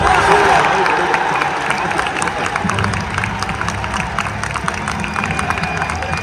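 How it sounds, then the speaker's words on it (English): A crowd of esports fans at a Call of Duty event cheers and applauds, loud at first and then settling into a steady roar of clapping and shouts with voices mixed in. "The crowd ready."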